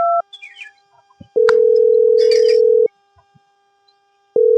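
Loud electronic telephone tones: a long steady beep, a pause, then another beginning, with faint chirps and clicks in between.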